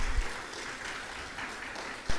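Brief scattered audience applause for a singer at a conference session, soft clapping with a low thump near the end.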